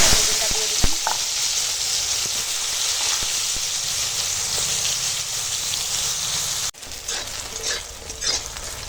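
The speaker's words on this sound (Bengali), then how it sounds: "দেখো বেগুনটা ভাজা হয়ে গেছে" Eggplant slices coated in salt and turmeric frying in hot oil, a loud, continuous sizzle with a few utensil clinks, cutting briefly near the end before the hiss resumes more faintly.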